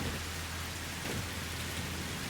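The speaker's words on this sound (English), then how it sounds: "Don't we all just love a little rain?" Steady, faint rain hisses across surfaces in the video game Satisfactory, a dense even patter with no voices.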